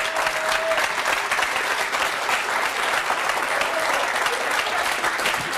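A television studio audience on a French talk show breaks into sustained applause, loud and even dense clapping from a large crowd that holds steady for several seconds.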